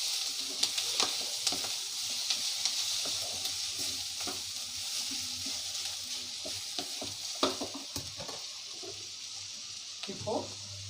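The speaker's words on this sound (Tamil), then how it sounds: "நல்லா செவக்கிற வரைக்கும் வதக்கணும்" Onions sauté in a pan with a steady close sizzle and scattered scraping stir clicks, cooking for a chicken green gravy; the frying goes on continuously throughout.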